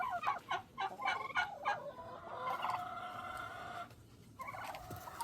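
A mixed backyard flock of meat turkeys and layer chickens: faint, distant clucking and gobbling calls in short bursts, overlapping in a loose chatter outdoors, with no talking.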